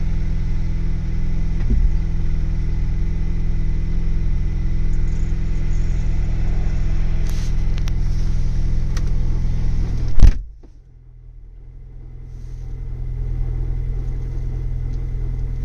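Ford Bronco with a 7-speed manual idling on a cold start with the clutch released in neutral, a steady engine drone carrying a faint grinding hum, a sharp transient near the end, then a lower, quieter idle.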